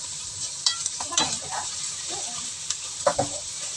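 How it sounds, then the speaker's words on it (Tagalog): Shredded pork with noodle seasoning mix sautéing in a pan, a steady close sizzle broken by a few scraping stirs of a utensil, with no voices. "So, saute lang natin to at least for about 1 minute."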